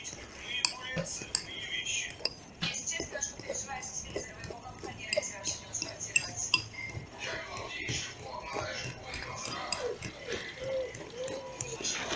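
A thick, creamy herb sauce is stirred in a bowl for shashlik cooked in a kazan, with soft scraping and clinking of a utensil against the bowl throughout, under quiet background noise.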